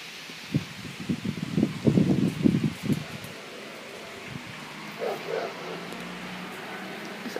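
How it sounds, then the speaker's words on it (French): A dog barks in a quick run of several barks at moderate distance during a thunderstorm, followed by quieter background noise. "Non, ça c'est un chien"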